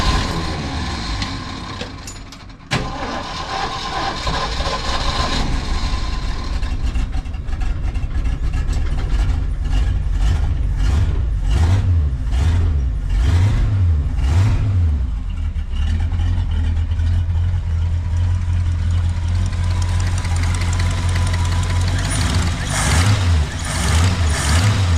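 A car engine fed by a freshly rebuilt Motorcraft/Autolite 2100 carburetor idles loudly and steadily, then revs up and down in repeated swells, close and with no one talking.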